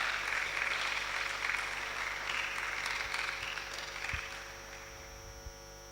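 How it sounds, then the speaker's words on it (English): A crowd at an educational talent talk claps steadily for a woman. The sustained clapping runs for the whole stretch, moderately loud, over a low electrical hum, and then slowly thins out toward the end. "Please, can you give her a round of applause"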